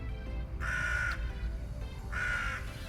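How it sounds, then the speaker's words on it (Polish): Two loud harsh crow caws ring out outdoors over a low background rumble, each about half a second long and spaced apart, with no voices. "Szału można dostać z tymi ptakami."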